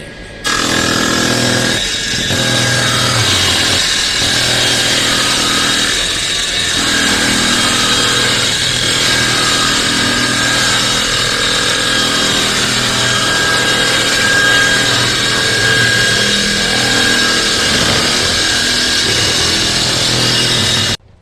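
A power saw cuts wood on a table saw setup fitted with clamping arms on both sides, a loud steady whine running continuously throughout with brief dips in pitch as the blade bites into the wood.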